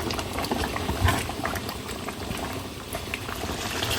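Meat curry boiling steadily in a pot, a continuous dense bubbling and simmering hiss that stays loud and close throughout with no speech.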